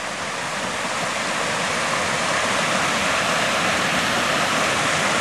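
A forest creek that flows year-round rushes steadily and close by, a dense, even wash of water noise that holds without pause and with no voices over it.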